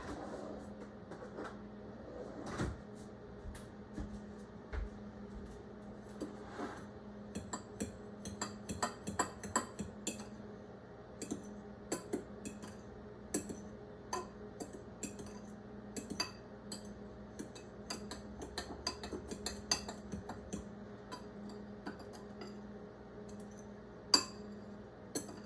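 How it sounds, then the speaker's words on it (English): A whisk mixes a couple teaspoons of cinnamon into cake batter ingredients in a bowl for a honey bun cake, giving close, quiet, irregular clinks and ticks against the bowl throughout with no talk. "And I'm gonna give that a little whisk."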